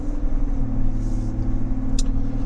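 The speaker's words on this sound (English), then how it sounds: "So I'm accelerating onto this, basically a 2-lane road." A 2022 GMC Sierra pickup truck towing a trailer accelerates onto a two-lane road, its engine a steady low rumble heard from inside the cab, with a brief faint click partway through.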